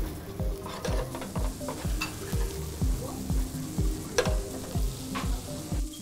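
An octopus spring roll sizzling in a hot pan while being stirred, with soft frying hiss under regular scraping and tapping strokes of a utensil against the pan, fairly quiet and close.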